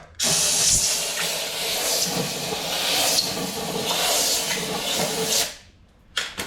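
A strong, steady hiss of compressed air blowing through a clogged part of a Honda CR-V that runs rough and stalls, loud and continuous for about five seconds before cutting off, followed by a couple of short bursts.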